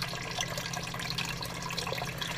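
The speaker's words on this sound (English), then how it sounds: "I'm going to put filtered water." Filtered water pours steadily onto uncooked rice in a pot, making a continuous, even hiss and splash throughout, with no talk.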